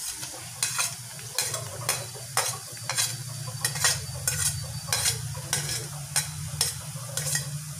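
Beef fries in a pan with crushed green chili, ginger, garlic and pepper. Rhythmic spatula scrapes recur about twice a second over a continuous close sizzle.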